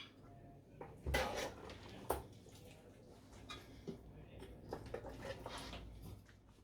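Salted lamb curry (namkeen gosht) being dished up from a cooking pot, with several clanking metal knocks of a utensil against the pot and dish, then softer scraping and clinks.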